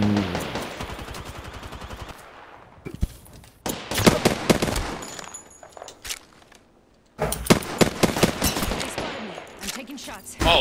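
Bursts of automatic gunfire in an Apex Legends match, rapid loud volleys with short pauses between them, fairly close, mixed with game effects.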